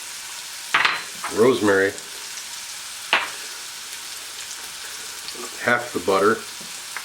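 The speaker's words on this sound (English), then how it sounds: "those mushrooms are cooking really nice. I'm going to add our shallots." Mushrooms, shallots, thyme, rosemary and butter frying in a pan, a steady close sizzle with occasional stirring while someone talks over it.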